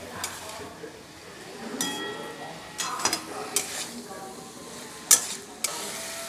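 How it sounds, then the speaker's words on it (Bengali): Vegetables and eggplant sauté with spices in a pan for a fish chachchari, with a soft ongoing sizzle broken by repeated scraping and clinking strokes of a spatula against the pan, close by. "এবার মশলার সাথে ভালো করে কষিয়ে নেব"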